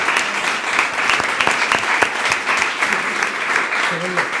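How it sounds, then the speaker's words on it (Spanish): A film round-table audience gives a guest actress a round of applause, a loud, dense wash of clapping hands sustained throughout, with a voice briefly rising over it near the end. "Un aplauso para ella."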